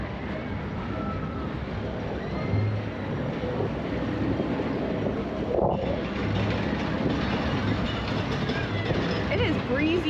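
Wind blows hard across a microphone high up at an amusement park, a loud continuous rumbling buffet with brief gusts and no clear pauses.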